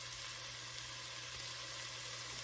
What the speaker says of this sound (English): we're going to then stir in our garlic